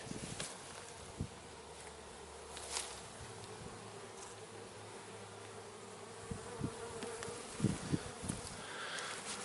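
Honey bees buzz in a steady, dense drone during a hive transfer for raising a new queen, with scattered faint knocks and clicks of handling and no talking.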